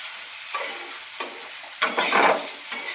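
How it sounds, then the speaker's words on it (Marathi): Food being sautéed and stirred in a pan with salt added, giving a soft steady sizzle with a few scraping stir strokes, close and alone with no talk. "चवीपुरतं मीठ टाकूया, छान असं परतून घेऊ।"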